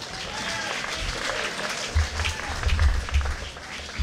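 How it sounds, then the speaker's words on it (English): A crowd at a 2019 Chicago mayoral candidate forum applauds the event's organizer Aaron: a full round of clapping that builds and grows louder partway through, with some voices mixed in the room. "Can we give him a round of applause?"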